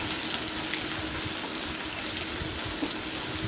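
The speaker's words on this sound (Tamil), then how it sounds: "போட்டு நல்லா வதக்கிக்கலாம்" Sliced onions sautéing in a pan after curry leaves have crackled in the oil, a steady close hiss of frying that runs unbroken throughout with no talk.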